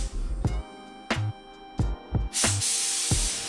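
A spray gun fires several short test bursts of hissing paint spray in a garage, with brief pauses between them, ending in a longer sustained spray.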